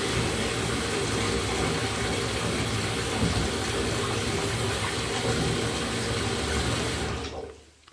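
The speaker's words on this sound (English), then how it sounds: "another thing I tried was to put some water in the tub" Water gushes from a tap into a bathtub in a steady, loud, continuous rush that stops abruptly near the end, with no voices.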